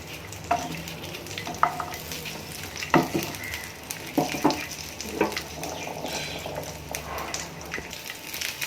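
Chopped garlic and ginger fry in a pan for a kudal (mutton intestine) gravy, giving a low steady sizzle broken by several scraping stirs, close up and without speech.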